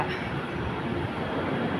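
An elevated BTS Skytrain rumbles past at close range in a Bangkok station with a steady, broad roar of wheels and rail noise, no voices heard.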